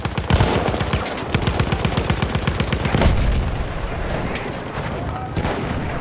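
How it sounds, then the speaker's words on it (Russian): Rapid machine gun fire in Battlefield 1, a dense sustained burst of close shots with overlapping gunfire and a few heavier booms, loud throughout the whole stretch. "Пулемет! Берегись!"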